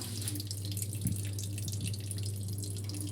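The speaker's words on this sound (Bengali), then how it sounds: "তো এখন এগুলো মেজে নিই বাবা।" Tap water runs steadily into a kitchen sink full of soaked dishes and a karahi, a constant close wash of splashing with a few brief knocks of utensils.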